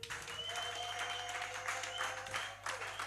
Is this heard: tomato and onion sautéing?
no